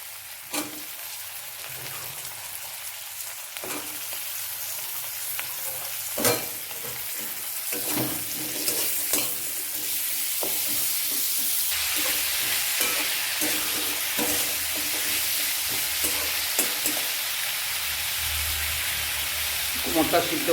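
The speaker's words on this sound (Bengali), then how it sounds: "এটা খুব ভাজা ভাজা হয়ে গেছে। এখন আমি এটার মধ্যে কোমরটা দিয়ে দিচ্ছি।" Pumpkin fries with fermented fish in a pan for kumro ghonto, a constant sizzle broken by sharp scraping stirs and knocks, growing denser and louder toward the end.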